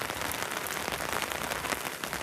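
Rain falling on a rooftop, a dense, steady patter that stays even and close throughout, with no voices.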